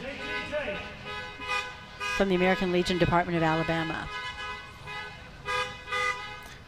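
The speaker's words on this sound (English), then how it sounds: "I guess American Legion honks horns" Car horns honking at a Veterans Day event with the American Legion in Birmingham, Alabama: several sustained toots and a long blast from nearby vehicles, mixed with someone speaking.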